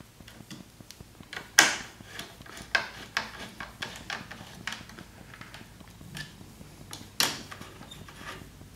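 Bolts being snugged down on a motorcycle passenger backrest, heard as a series of close metallic ticks and clicks from a hand tool at irregular intervals with quiet gaps between.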